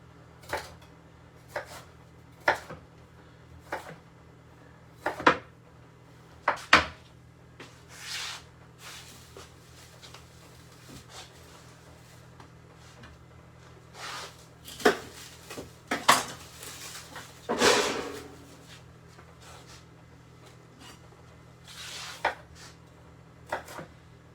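Potatoes smashed and vegetables mixed in a metal baking tray with butter, a series of sharp clanks and scrapes of utensil on metal, irregular and close, with quiet gaps between bursts.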